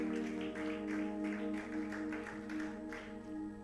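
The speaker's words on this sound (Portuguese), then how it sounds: "Vamos aplaudir o Senhor." Church congregation claps along in steady rhythm beneath sustained keyboard or organ tones, the clapping moderately loud and continuous throughout.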